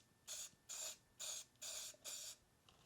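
Five short bursts from a spray bottle or spray can misting home-mixed DIY paint, evenly spaced and fairly close, with a faint sixth puff at the end.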